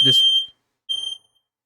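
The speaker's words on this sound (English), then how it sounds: "my fire alarm went off so loudly in my ear while I was talking there" A household smoke alarm sounds two piercing electronic beeps, loud and close, the first cutting over a brief voice and the second ringing out alone after a pause.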